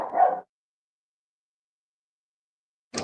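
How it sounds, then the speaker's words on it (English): A single short dog bark, fairly close and clear, breaks the silence at the very start of an online voice call, then nothing follows until a faint sound right at the end. "Who's dog barking?"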